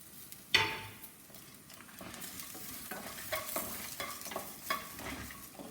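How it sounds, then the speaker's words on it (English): Coconut pieces sizzling in a hot pan while being stirred, a steady frying hiss with a sharp clink of the utensil near the start and soft scraping throughout. "Now I am adding this coconut pieces."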